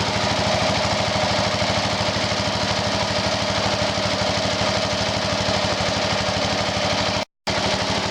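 A garden tractor engine fitted with a new carburetor and air cleaner idles low and loud nearby, a fast even chugging pulse that runs steadily with one brief dropout near the end.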